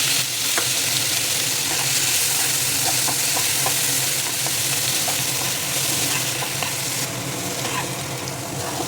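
Chopped onion, green chilli, tomato and garlic fry in hot oil in a pan while paneer capsicum is being made at home, giving a steady, loud sizzle throughout with occasional small pops and stirring scrapes, no voices.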